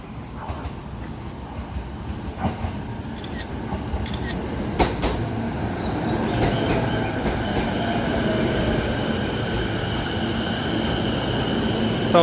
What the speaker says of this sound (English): Train is coming. That's my train coming here.